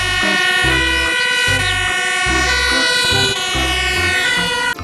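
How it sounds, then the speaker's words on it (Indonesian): Fire engine siren wailing loud and close in a steady repeating two-tone pattern, rising and falling with strong harmonics over a low vehicle rumble, continuing without pause. "Ini mobil pemadam kebakaran."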